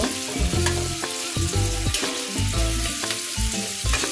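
Green beans and potatoes for sim bhaji fry in a pan with a loud, close sizzle, while repeated stirring strokes scrape and clatter in an uneven rhythm throughout.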